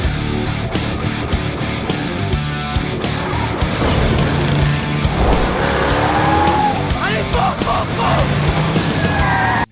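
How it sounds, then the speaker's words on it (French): A car chase from a Transformers film, with roaring engines and tires squealing and skidding through several long screeches, loud and close amid a busy mix with a brief shout. "Ah bah course poursuite."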